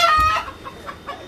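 Chickens clucking close by in a morning yard, a few soft irregular clucks over low background noise.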